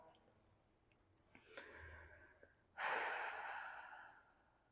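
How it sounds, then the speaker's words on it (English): Slow, deep breathing during a restful yin yoga session, a soft inhale followed by a longer, louder exhale through the nose and mouth, close and alone in a quiet room. "take about 3 more cycles of breath"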